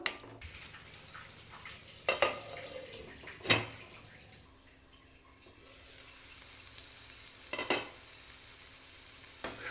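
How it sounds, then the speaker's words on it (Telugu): Tomato, onion and spice masala purée cooking down in a pan, with a soft steady bubbling sizzle and a few sharp clattering stirs or scrapes standing out at intervals, no voices. "మసాలాలు టమాటా ఆనియన్ అవన్నీ కాస్త ఉడకనివ్వాలి ఆయిల్ పైకి తేలే వరకు"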